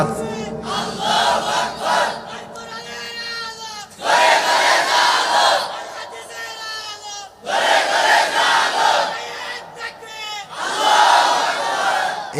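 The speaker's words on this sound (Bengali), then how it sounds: "ভাইজান তাকবীর দেন একটা, তাকবীর দেন একটা।" A large crowd at a religious sermon shouting a takbir chant, three loud unified roars in call-and-response bursts that break between a single voice's calls.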